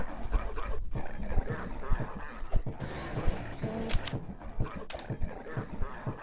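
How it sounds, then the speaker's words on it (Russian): Dogs in a Roblox video game bark and yip in quick irregular bursts, the sounds overlapping in a busy, choppy stream over game noise. "Вот ненавижу этих собак."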